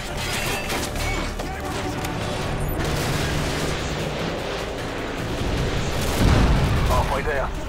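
AGM missile strikes in Call of Duty Modern Warfare 2 form a dense, continuous barrage of booming explosions and rumbling blasts, swelling louder near the end, with voice chatter over the din.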